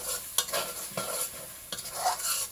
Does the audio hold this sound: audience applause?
no